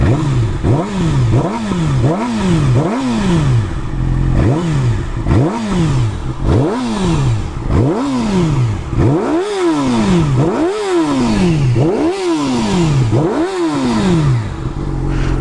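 A warmed-up Yamaha R6 sport motorcycle idles and is revved repeatedly, each blip rising and falling in a rhythmic series of loud, close engine swells with a clattering undertone.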